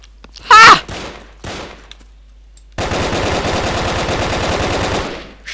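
Sustained rapid sniper gunfire in the video game BrickForge, a loud sharp report followed by a dense, continuous volley of shots lasting several seconds, with no talk over it.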